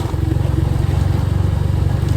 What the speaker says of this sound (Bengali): বাইক চালাইতেছি আর যাইতেছি